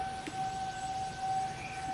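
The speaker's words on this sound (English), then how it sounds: "Sorry about that siren." An emergency siren wails outdoors, faint and distant, a thin steady tone holding under low background noise.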